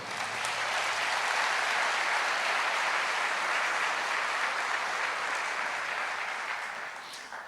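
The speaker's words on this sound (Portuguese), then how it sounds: "Você pode aplaudir o Senhor?" Applause from a church congregation during a sermon, a dense, steady wash of clapping that holds strong for about seven seconds and then tapers slightly near the end, with no voices over it.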